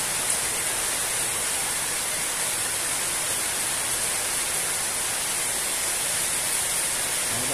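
Heavy rain pours outdoors over a home garden, a dense, steady hiss of broadband noise that holds evenly for the whole stretch, with no voices or other distinct sounds.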